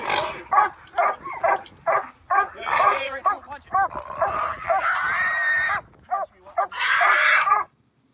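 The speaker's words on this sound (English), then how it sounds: "Listen to that dog barking. You hear the dog barking?" A dog barks and yelps repeatedly in short bursts, close and fairly loud, with some whining, mixed with a person's voice.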